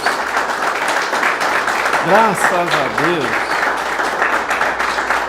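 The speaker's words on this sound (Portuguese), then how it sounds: "Quem crê pode aplaudir, glorificar." Applause from a church congregation fills the room steadily, with a preacher speaking over the clapping.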